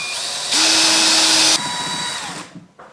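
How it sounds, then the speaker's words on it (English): Power drill boring upward through a wooden ceiling joist for downlight cable: a loud, steady high whine runs for about a second, sits at idle before and after, then winds down to quiet. "And then we'll start drilling."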